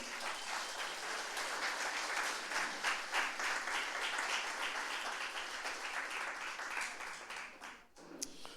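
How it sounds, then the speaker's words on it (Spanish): Congregation in a church applauding steadily for about eight seconds, a dense, even wash of many hands clapping that fades out near the end. "A su nombre, démosles palmas al Señor."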